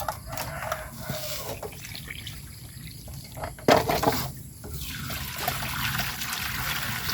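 Tap water trickles and splashes softly as cups are washed at a sink, a faint continuous flow with a brief louder splash midway.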